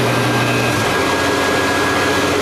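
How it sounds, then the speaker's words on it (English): A vacuum cleaner runs steadily in a workshop powered through a homemade three-phase converter, a loud continuous whooshing roar with a low hum that shifts slightly early on, with no talk. "we're gonna start the vacuum cleaner up"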